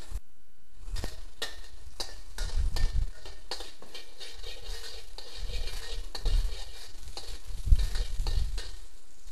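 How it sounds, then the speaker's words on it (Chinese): Minced garlic sizzling in two tablespoons of salad oil in a wok, a continuous close crackle with clanks and scrapes of the spatula as it is stir-fried. "爆香蒜碎"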